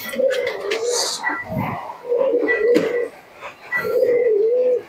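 Pet Giribaz pigeons coo nearby in a home loft in Murshidabad, giving soft, rolling, repeated coos in three drawn-out phrases with brief pauses between them.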